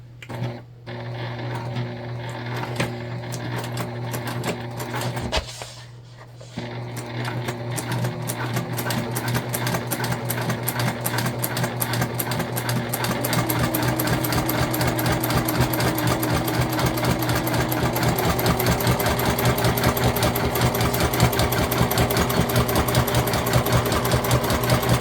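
A sewing machine back stitches along a bag seam with a steady, rapid mechanical chatter that runs continuously and close by, briefly pausing once early on before resuming at a slightly louder, even pace.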